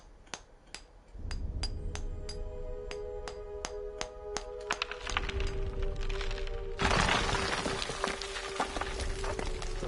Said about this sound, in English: Use the hammer and chisel.